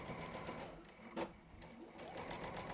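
A sewing machine steadily stitches fabric, a close, continuous mechanical whir with a faint rhythmic pulse and a brief knock partway through, moderately quiet.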